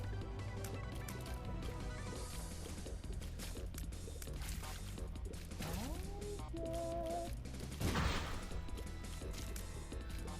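A bomb goes off in The Binding of Isaac, a sharp broadband burst near the eight-second mark that stands out over busy game music and effects.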